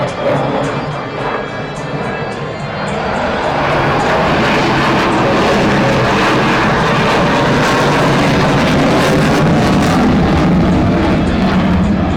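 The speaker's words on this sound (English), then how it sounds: "Just demonstrated the minimum radius turn capability of this marvelous aircraft." A jet aircraft flying aerobatic manoeuvres in an airshow display at Aero India 2019, a loud, continuous roaring engine that swells slightly and holds steady and close throughout.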